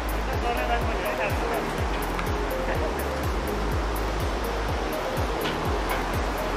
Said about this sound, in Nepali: 2टा खोला आएर मिसिएको रहेछ यहाँनिर